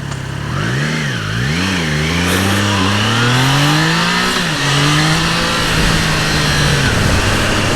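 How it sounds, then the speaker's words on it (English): Triumph Trident 660 motorcycle engine revving up and down in repeated swells, loud and close, with a rising pitch that falls back each time, alone without voices. "it's definitely not as quick to rev"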